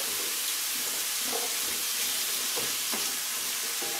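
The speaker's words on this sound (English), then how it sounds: "so that more of the onions have a chance to hit the hot part of the pan" Chopped onions and carrots frying in a hot pan for a habanero mango sauce, giving a steady, dense, close sizzling hiss with a few faint stirring knocks underneath.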